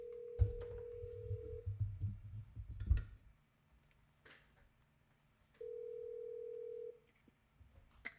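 A telephone dial tone plays as a call is placed over a radio show line, a steady pure tone sounding for about a second, then muffled handling noise, then the same tone again after a pause.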